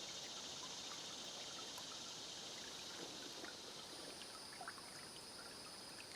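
A South Carolina creek on a hot, humid summer day flows with a faint, steady watery hiss and light trickles, joined by a constant high insect drone in the background.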